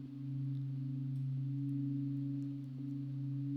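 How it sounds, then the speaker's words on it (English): A steady low sine tone, part of a chakra tuning fork sound design, holds continuously with slight wavering in level, smooth and clean with no other sounds. "now the sound is traveling from left to right"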